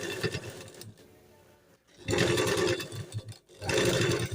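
A sewing machine stitches a lined kurti, running in close, loud bursts with short pauses between the runs of stitching.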